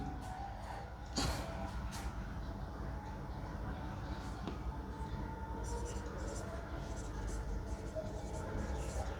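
Quiet, intermittent scratching strokes of writing on a board during a mathematics lesson on polynomials, soft and close, with faint voice sounds in the background.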